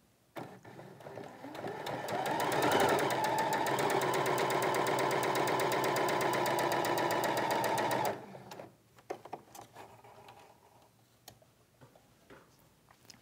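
A sewing machine stitches corner to corner across layered white and print fabric for a quilted arrow block, a steady fast whirring run of about six seconds that stops abruptly, followed by faint handling clicks.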